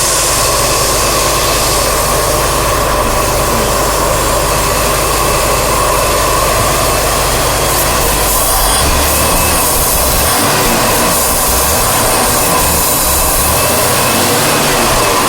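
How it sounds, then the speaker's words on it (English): A car engine idles during throttle body cleaning on a Ford Taurus: a steady, loud drone with a hissing, roaring edge runs throughout, holding a constant pitch without revving. "the idea is to keep the engine running without stalling, but don't rev it too high"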